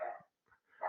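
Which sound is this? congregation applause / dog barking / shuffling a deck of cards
dog barking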